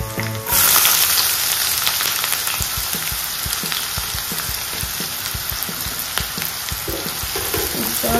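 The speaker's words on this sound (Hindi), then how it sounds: "तो लहसुन अच्छे से भुन जाए तो अब हम इसमें डाल देते हैं ये बारीक कटी हुई प्याज।" Finely chopped onions dropped into a pan of frying garlic with green chillies, a sudden loud hiss that settles into a steady close sizzle and crackle, with light stirring scrapes.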